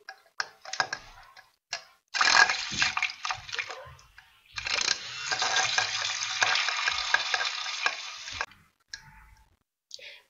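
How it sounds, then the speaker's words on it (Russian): An electric hand mixer whips a homemade cosmetic cream made with BTMS emulsifier and lavender hydrosol, running in long loud bursts with short pauses between them. Light clicks and bumps of the bowl sound close by, and no one talks. "Теперь берем миксер и начинаем взбивать"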